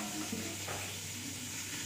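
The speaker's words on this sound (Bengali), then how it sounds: "এটাকে এবার আমি ভেজে দেব" Spiced brinjal with sesame fries quietly in a pan, giving a faint, continuous sizzle with a soft stirring rustle and no voices.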